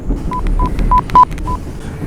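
A quick run of telephone keypad tones, five short beeps in an uneven rhythm over a low background rumble.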